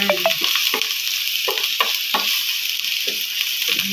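Ginger sautéing in a hot pan with oil for Filipino chicken kinamatisan, a steady bright sizzle broken by repeated scraping strokes of a utensil stirring the pieces, close and continuous.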